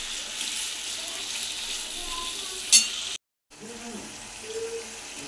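Black cumin seeds frying with other ingredients in a hot pan, giving a steady soft sizzle with faint stirring, broken by a brief gap of silence.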